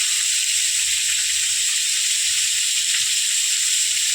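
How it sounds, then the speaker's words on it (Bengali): Cut, washed potatoes frying in hot oil for a Bengali snack, giving a steady, dense sizzle that holds loud and even throughout, with no voices over it. "তেলের মধ্যে এই যে কেটে ধুয়ে রাখা আলুগুলো ছেড়ে দেবো"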